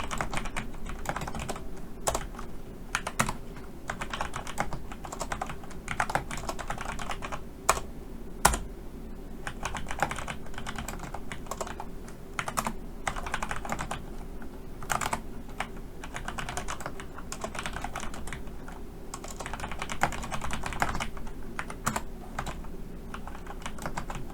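Typing on a computer keyboard, steady and close, with clusters of key clicks and sharper Enter-key strikes while entering spreadsheet data, with no talking.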